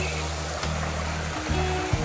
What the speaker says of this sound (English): there's the lovely water feature that we're so proud of and happy with